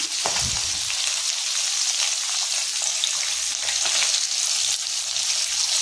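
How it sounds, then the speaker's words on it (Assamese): Turmeric-and-salt-coated fish frying in hot oil, a steady dense sizzle that holds loud and close without pause, with a few faint clinks of a utensil early on. "এয়া তেলত ফ্ৰাই কৰি লৈছোঁ।"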